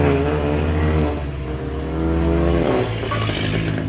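Two Volkswagen Golf GTI cars, a Golf 5 and a Golf 7, accelerating hard at a motorsport event: loud, close engine roar rising in pitch, with a gear change partway through and a second surge of revving.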